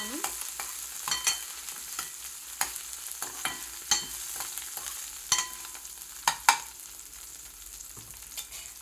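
Onion, mint and coriander frying in a pan, a steady soft sizzle with scattered clicks and scrapes of stirring, close and alone without talk.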